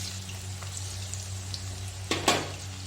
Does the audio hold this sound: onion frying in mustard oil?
yes